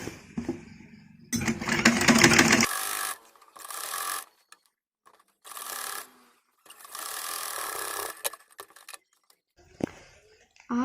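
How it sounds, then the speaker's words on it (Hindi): A sewing machine stitches a baby kurti in several separate bursts of rapid, whirring needle chatter, the longest lasting over a second, separated by quiet pauses and light handling sounds. "इसीलिए हम उसमें भी सिलाई लगा ले रहे हैं"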